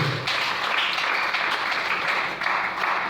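Church congregation applauding the Lord, a dense sustained wash of many hands clapping at once, loud and continuous throughout.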